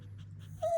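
Dog crying and whimpering nearby, with a steady low whine followed by a sharper, louder high-pitched whimper near the end, heard alone.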